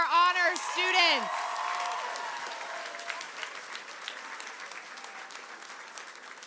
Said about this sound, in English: can I have one final round of applause to all of our honor students?